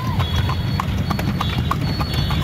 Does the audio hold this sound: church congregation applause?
no